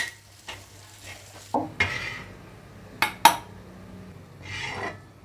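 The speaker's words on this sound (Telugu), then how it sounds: "సో ఈ మసాలాలని బాగా వేయించుకుందాం" Salt, chili powder and garam masala frying in oil in a pan for an egg omelette make a low sizzle, punctuated by intermittent metal clinks and scrapes of a stirring spoon.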